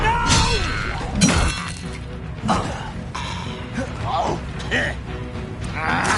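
In Hogwarts Legacy, the Expelliarmus disarming spell goes off amid loud shattering and crashing impacts that recur every second or so during a fight, layered under steady speech.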